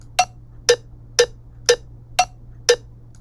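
Cowbell metronome click from a music app, six evenly spaced, sharp metallic ticks about half a second apart, fairly quiet over a faint steady hum.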